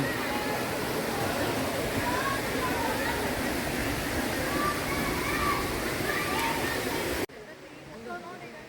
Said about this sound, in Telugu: ఇది వాటర్ ఫాల్స్